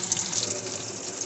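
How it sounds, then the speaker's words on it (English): Water runs steadily from a faucet into a sink, a close, continuous splashing rush with no voices over it. "I'm going to go to the sink and run the water."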